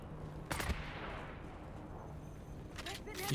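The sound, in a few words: gunfire in the video game Dune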